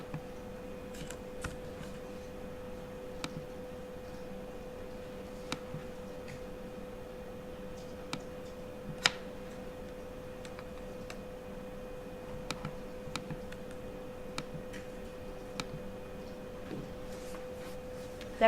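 Typing on a computer keyboard during a GIS software lesson, sparse faint clicks and taps at irregular intervals over a steady low electrical hum, with no talk.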